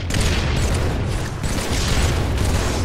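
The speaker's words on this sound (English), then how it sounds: "Here comes that spawn nade." A grenade blast in the Halo 3 multiplayer video game, a loud, dense rumbling boom that fills the whole clip, with no speech over it.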